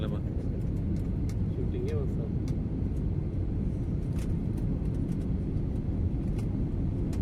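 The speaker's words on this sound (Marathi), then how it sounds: "आपण आता रनवेवर आता आपलं विमान उतरत आहे हैदराबादच्या लँडिंग" A passenger airliner touching down on the runway at Hyderabad airport, heard from inside the cabin as a steady, loud rumbling roar with scattered knocks and no let-up.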